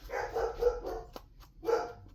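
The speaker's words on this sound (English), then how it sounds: "I know you guys can hear my dog." A pet dog barks at home, apparently at a passing mail carrier, in a short burst of three quick barks, a pause, then one more, moderately close and alone without talk.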